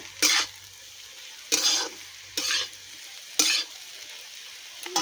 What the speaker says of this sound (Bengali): তো এই হচ্ছে আলু ভাজা